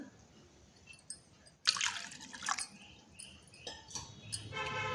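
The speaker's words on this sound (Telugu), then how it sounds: "కొంచెం వాటర్ పోసుకోవాలి" Water trickles and drips into curd in a container, with a few splashy pours and small wet clinks, close by and fairly quiet.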